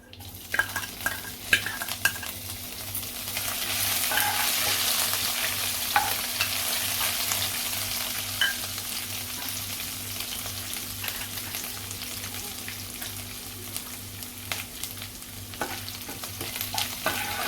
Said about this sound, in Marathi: कढीपत्ता आणि जिरं घालूया मिरची घेतलेली ठेचून ते घालते